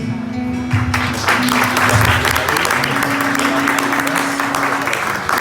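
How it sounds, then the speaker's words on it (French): A crowd applauds at a celebration at the national library, sustained, fairly loud clapping that swells after the first second and holds steady over a low background hum. "un tonnerre d'applaudissements"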